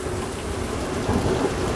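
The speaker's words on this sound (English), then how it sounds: "is it's pouring rain outside" Heavy spring rain pours steadily with a low rumble of thunder underneath during a severe thunderstorm, dense and constant for a brief moment, no voices.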